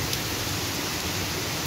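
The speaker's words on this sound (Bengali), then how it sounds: "দেখুন টিপ টিপ করে হয়ে যাচ্ছে।" Light drizzle falls on a rooftop, heard as a soft, even hiss of rain that stays steady and fairly faint throughout.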